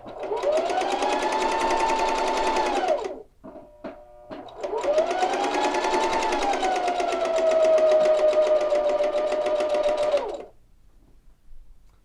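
Sewing machine stitching steadily around the edge of a tie jacket, running in two long continuous bursts with a short pause between, close and loud.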